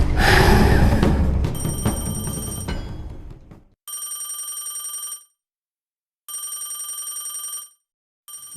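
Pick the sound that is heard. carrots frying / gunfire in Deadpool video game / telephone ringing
telephone ringing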